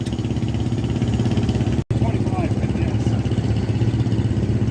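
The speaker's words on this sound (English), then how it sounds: "This big 4-cylinder gas engine." A big four-cylinder gas engine on an antique Massey Harris No. 25 tractor runs with a steady, loud, throbbing low chug at an antique power show, its even firing rhythm dropping out for an instant partway through.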